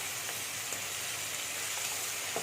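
Tomato drops into hot garlic and ghee for a lentil dish, giving a steady, close, fairly quiet sizzle with an even hiss and no voices.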